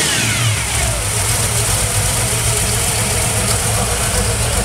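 A 1932 Ford Highboy hot rod engine rumbles loudly and lumpily close by, with a quick rev swelling and easing back into a throaty idle.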